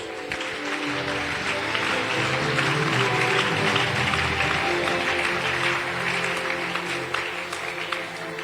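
A church congregation applauds loudly and steadily throughout, dense continuous clapping with crowd noise and no pauses.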